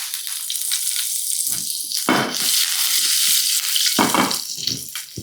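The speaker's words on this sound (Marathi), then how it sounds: "आता यामध्ये जिरं, हिंग, कढीपत्ता, बारीक चिरलेलं लसूण." Garlic, cumin, asafoetida and curry leaves hit a popping mustard-seed tempering, giving a loud, close, continuous sizzle with sudden rushing surges as each addition lands, and no voice.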